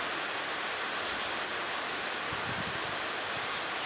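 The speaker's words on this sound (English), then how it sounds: "it's raining." Steady rain hisses continuously, a dense, even patter close by with no voices or other sounds standing out.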